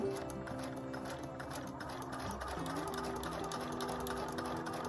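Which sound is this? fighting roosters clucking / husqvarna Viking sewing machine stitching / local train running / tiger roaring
husqvarna Viking sewing machine stitching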